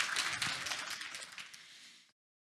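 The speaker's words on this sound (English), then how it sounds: "A round of applause goes to you." Audience applause for a speaker at a Baltic Nordic SEO summit, a brief burst of dense clapping that fades steadily and cuts off after about two seconds.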